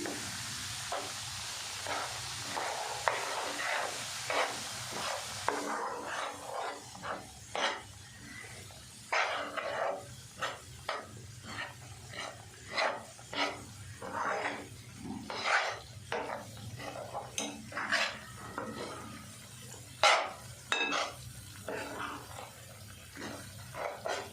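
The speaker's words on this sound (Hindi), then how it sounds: "सूजी और बेसन को हमने हल्की आंच पे भूनना है।" Semolina and gram flour are roasted in ghee over low heat with cardamom, giving a steady soft sizzle overlaid by repeated scraping and stirring strokes of a spoon against the pan, close and continuous.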